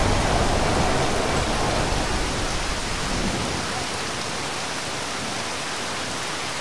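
Steady rain hisses down evenly at an equestrian centre, a dense wash of drops that eases slightly in loudness as it continues.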